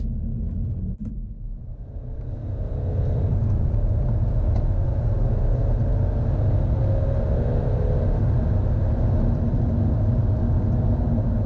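A 2013 BMW 320d E92 diesel coupe with a ZF six-speed automatic gearbox accelerates from 30 to 70 mph, heard from the cabin: a deep, loud, steady diesel roar that builds after a brief dip and then holds strong.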